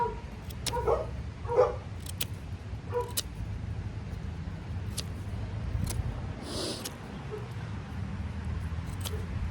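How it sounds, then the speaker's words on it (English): Several dogs bark in short, scattered bursts a little way off, over a low steady background hum, with faint talk in between. "And the dogs are going off, of course."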